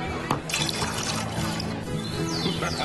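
Liquor poured into a drink during a festive Chilean gathering, a steady liquid pour running under background chatter and noise.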